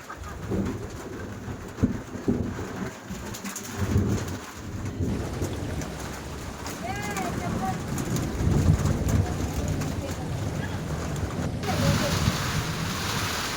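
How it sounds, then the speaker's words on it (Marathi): Steady rain falls in a village near Ahmednagar during an unseasonal March shower, with rumbling thunder and occasional bird calls under the constant downpour. "भर उन्हाळ्यात मार्च महिन्यामध्ये पाऊस आला बघा"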